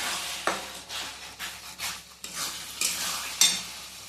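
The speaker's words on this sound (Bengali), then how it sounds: "কিছুক্ষণ আমি কষি, মশলা থেকে একদম তেল ছেড়ে যাবে" Spice masala frying in oil in a pan for a Bengali mutton and potato curry, close stirring with rhythmic scraping strokes and spatula knocks over a gentle sizzle.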